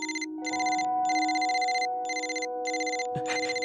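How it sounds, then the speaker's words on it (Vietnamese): A telephone rings in a domestic drama scene, its electronic bell sounding in repeated regular bursts with short gaps, loud and close, with a brief rustle near the end and no talking. "Điện thoại của anh."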